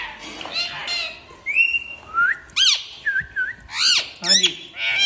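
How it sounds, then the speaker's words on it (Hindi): A small bird in a home, chirping and whistling in a string of bright, sweeping calls, some rising and some falling. The calls come close and loud over faint room noise. "चिड़िया कहाँ से निकल गई?"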